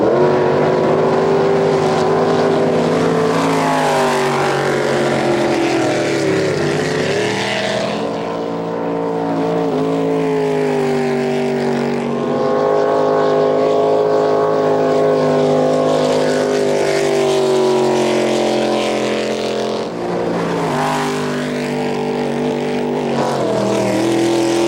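Jet boats racing on a river during a world jet boat race, their engines a loud continuous roaring drone that swells and dips slightly as the boats run, with no voices.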